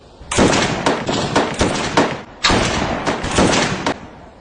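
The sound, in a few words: gunfire, five-round group firing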